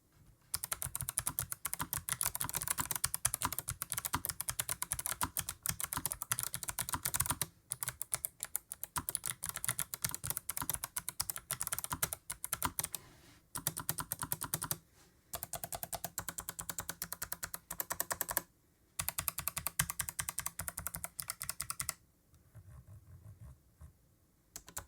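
Rapid typing on a Razer BlackWidow V4 low-profile mechanical keyboard, soft clicky keystrokes in quick bursts with brief pauses between runs, close up and without any talking.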